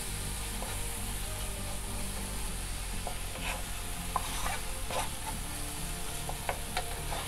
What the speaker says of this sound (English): we will roast this onion, tomato and the dry spice at least for